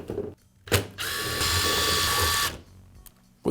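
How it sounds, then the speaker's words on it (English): A power screwdriver whirs steadily for about a second and a half, backing out housing screws from a Milwaukee Hackzall reciprocating saw, with brief clicks and handling noise before and after. "I'll remove the screws that secure the housing"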